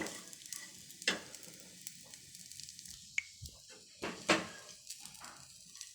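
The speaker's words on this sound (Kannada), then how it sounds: "ಕೊಬ್ಬರಿ ಹಾಕ್ಬಿಟ್ಟು ಸಣ್ಣ ಸಣ್ಣೂರಿಲಿ ಅದನ್ನು ಒಂದೆರಡು ಮೂರು ನಿಮಿಷ ಫ್ರೈ ಮಾಡಿ" Grated dry coconut sizzles and crackles softly in a pan on low heat, a quiet frying hiss broken by a few louder scraping stirs and taps.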